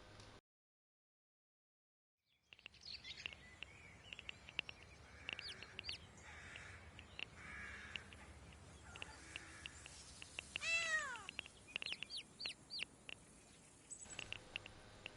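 Cartoon cat meows and chicks chirp in a Dreams video game scene, soft and close over a quiet ambient backdrop, with a rising chirpy call standing out partway through.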